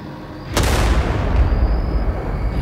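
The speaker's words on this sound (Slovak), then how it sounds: "Posledný výstrel doháňal ozveny." A gunshot in a fantasy audio story, one sudden loud blast that decays into a long booming, echoing rumble with a faint high whine lingering afterward.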